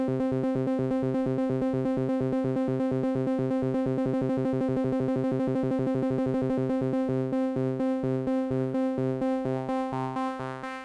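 A synth's arpeggiator runs steady, rapid repeating note patterns over a sustained drone for about eleven seconds, loud and alone, with the pattern shifting rhythm near the end; part of a live acid/techno setup with 2-operator FM and formant vowel sounds.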